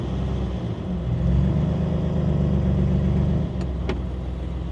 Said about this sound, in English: let's go through some gears, go down the road with it